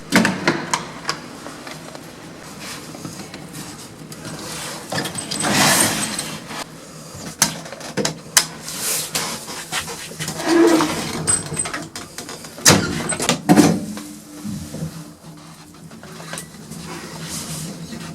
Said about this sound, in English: It actually got a door with slides, but you have to open it and close it by hand.